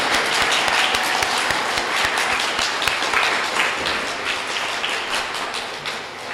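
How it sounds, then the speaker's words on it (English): Sustained audience applause at a live Trans Day of Remembrance event, dense and steady clapping from a crowd filling the space, close and loud throughout before slowly easing toward the end. "Can we just get another round of applause for Jake Edwards?"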